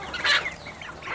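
An old farm chicken, the oldest rooster on a Philippine farm where geese are also kept, gives a short burst of clucking near the microphone, with softer bird calls trailing after it.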